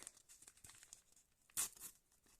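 A brief, sharp tear of a thin paper packet, preceded by soft crinkling and rustling handled close up.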